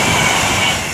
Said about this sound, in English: now passing by down there is 392128 for Avanti West Coast